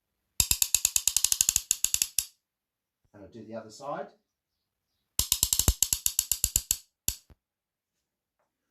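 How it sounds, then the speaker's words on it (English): Rapid ratcheting clicks from a ratchet tightening bolts, two long runs of crisp, evenly spaced clicks with a short burst at the end, separated by a brief stretch of someone talking. "when you tighten the bolt, it sounds like this"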